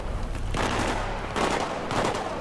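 Fireworks go off during the Nightshift level of Battlefield 3 on Xbox 360: three sharp, crackling bursts about a second apart, each loud and dense like rapid gunfire.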